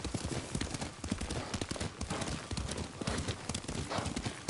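Horse hooves clip-clop in a fast, steady rhythm during a ride in the video game Ghost of Tsushima, close and continuous at low volume.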